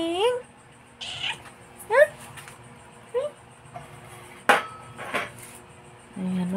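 A gentle, affectionate domestic cat meows several times in short separate calls, fairly close, with quiet room noise and light clinking between them; a person speaks at moments.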